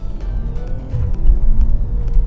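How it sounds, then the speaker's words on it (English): A 2016 Maserati Quattroporte S Q4's exhaust rumbles loudly and steadily, a deep throaty drone that swells a little louder partway through. "Now the exhaust gets loud."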